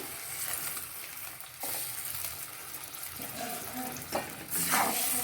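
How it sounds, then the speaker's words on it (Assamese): Hot water poured into a hot cooking pan with garlic and ginger, a steady sizzling and bubbling hiss that swells louder near the end, close and alone without talk. "এতিয়া দিম অলপ গৰম পানী।"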